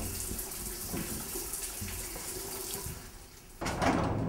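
Water runs steadily from a tap into a basin, a continuous close splashing hiss that changes pitch and grows louder near the end, with no voices.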